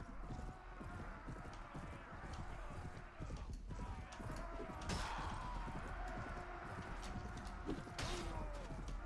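Horse hooves clip-clopping at a gallop in the Warband game's A World of Ice and Fire campaign, a steady busy rhythm of thuds and clatter running throughout with dense ambient noise, no voices.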